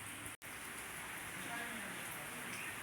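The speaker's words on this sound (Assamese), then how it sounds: "দেখিছে পানী পৰি আছে" Rain falls steadily in a continuous soft hiss, faint and even, broken by a brief dropout near the start.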